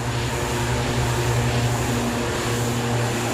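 A Beechcraft T-6 Texan II turboprop in Flight Simulator X drones steadily in flight, a constant loud engine hum with a low propeller tone and no talking.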